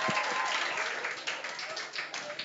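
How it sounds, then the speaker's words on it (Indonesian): Applause from an audience at an Islamic boarding school gathering honoring a competition winner, a dense steady patter of clapping filling the short stretch with a few louder taps and faint voices mixed in. "Tepuk tangan buat Mbak Eni."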